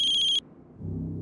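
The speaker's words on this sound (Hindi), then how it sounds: "सनी के राजकोट वाले घर के लैंडलाइन से फोन है।" A shrill electronic phone ring trills briefly and cuts off abruptly, followed by a low hum.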